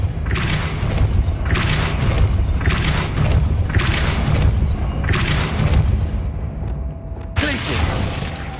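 In the Hogwarts Legacy video game, the Repulsor spell is cast again and again: five loud, booming blasts arrive at a steady rhythm over a dense, rumbling background of game combat.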